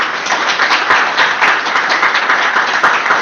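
Loud, close applause from a crowd at a commemorative plaque unveiling and tribute ceremony, continuous dense clapping with individual sharp claps standing out throughout.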